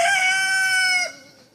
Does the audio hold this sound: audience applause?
no